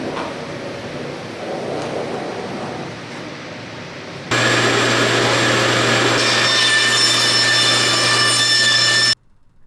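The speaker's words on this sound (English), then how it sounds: "Cutting the curves on the bandsaw for the lower dust collector is quick" A bandsaw cuts curves into wood parts for a dust collector on a miter saw stand. It starts with a steady rasping hum, then grows louder with a strong motor drone and whine as the blade bites, close by with no talking.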